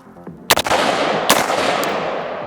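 Rifle gunshots from an AR15 and an AK47, two loud sharp cracks about a second apart with a third fainter shot, each leaving a long rolling echo outdoors.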